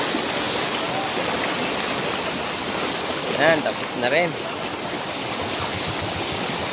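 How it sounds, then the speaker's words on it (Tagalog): A strong floodwater current rushes with a constant, roaring wash. Someone speaks briefly close by over the torrent. "Sobrang lakas ng tubig guys."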